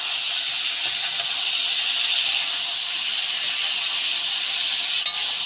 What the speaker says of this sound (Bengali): চিংড়ি মাছটা এর সাথে কষিয়ে নেব